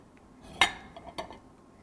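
A spoon serves shahi tukray bread pudding from a dish, heard as two soft metallic clinks about half a second apart against a quiet room background.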